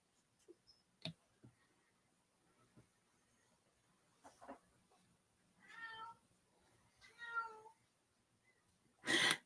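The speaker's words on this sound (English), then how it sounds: "If you hear that little meow in the background, that is Tommy." Tommy, an old gray cat, lets out two soft meows close by in a quiet room, followed by a sharper sound at the end, with scattered faint clicks and rustles in between.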